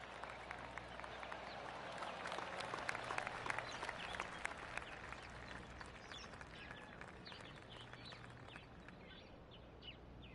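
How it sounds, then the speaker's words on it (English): Quiet golf clap from spectators at a golf tournament, a soft, steady patter of scattered hand claps heard from a distance over outdoor ambience, with no talk. "Oh, golf clap."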